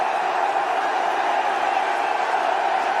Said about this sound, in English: You can hear the crowd. They're screaming for their favourite,